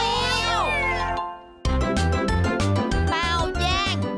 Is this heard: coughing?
no